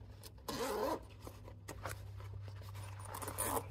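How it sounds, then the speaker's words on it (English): A zipper on a handmade fabric make-up bag is pulled closed in two brisk, raspy runs, close and clear against a quiet room hum. "we will close the zipper"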